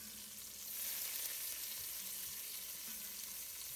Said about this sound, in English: So now put in some chopped up onions and saute those down.